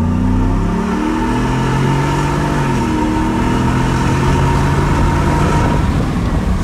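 Ford F150 Shelby Super Snake pickup engine revving hard on a rolling-start launch before being supercharged, a loud continuous mid-pitched roar with gear-change steps as revs climb.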